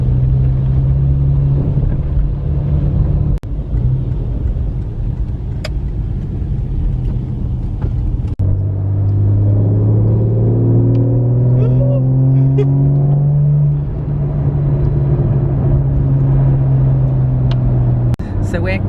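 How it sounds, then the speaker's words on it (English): A Porsche convoy drives behind a Porsche GT3 RS, with a steady engine drone and rising, revving pitch sweeps from close by as the cars accelerate. Someone talks over the engines throughout. "Porsche convoy following the GT3 RS"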